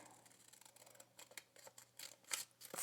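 Scissors snip through paper being cut out for a postcard, a run of short crisp cuts that grow louder and sharper toward the end, quiet and close with no talking.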